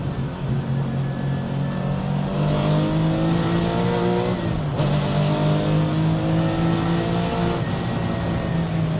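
A video game race car based on a Porsche 993 revs to nearly 8,000 RPM and climbs through gears, a steady loud roar with brief dips at each shift, continuous throughout.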